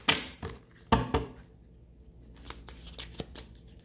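Tarot cards shuffled by hand in a few quick riffling bursts, loudest at the start and fading to soft scattered flicks and taps, close and quiet with no talking.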